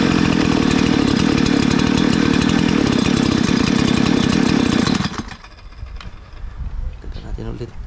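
A 20-inch mini chainsaw runs loud and steady after its carburetor idle is raised, a dense buzzing drone that cuts off abruptly partway through, leaving faint clatter and low handling noise.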